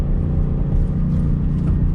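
Ford Mustang GT coupe accelerating slowly from inside the cabin, a steady low engine rumble and drone with a slight dip where the gear shifts, no talking.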